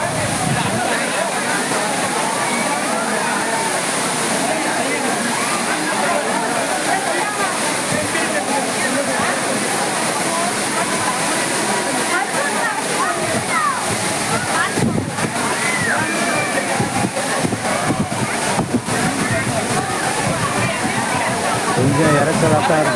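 At the Courtallam waterfall, cascading water falls and splashes in a dense, loud, continuous roar that fills the whole stretch, with a voice speaking underneath it.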